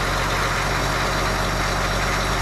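A cement truck's heavy diesel engine idles steadily at around 1,000 rpm while warming up, a loud, close, continuous low rumble with no variation and no voices.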